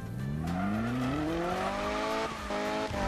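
A Mazda MX-5 under 200 horsepower in the Need for Speed 2015 racing game revs with a rising engine whine while its tires squeal and skid steadily, loud and continuous throughout.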